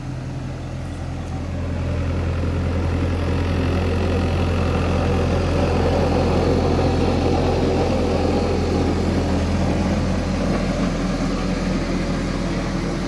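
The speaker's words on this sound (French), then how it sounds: "Il y a un tracteur qui est en train de passer." A passing tractor's heavy engine rumbles steadily and loudly at close range, a low droning motor that holds constant throughout with no voices.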